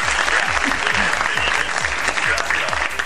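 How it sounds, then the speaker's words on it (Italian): Steady applause from an audience, dense and continuous at an even loudness, with a rhythmic low thumping beneath it throughout. "Ti sto mandando gli applausi"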